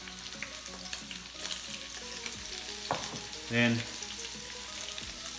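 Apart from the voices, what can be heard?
shrimp frying and sizzling in a pan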